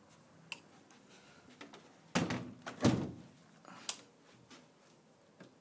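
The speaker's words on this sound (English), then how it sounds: "My balcony door looks like it's gonna fall off." An old, loose balcony door in a German hotel room being handled and opened, giving two loud close thumps and rattles with a few lighter clicks and knocks around them in a quiet room.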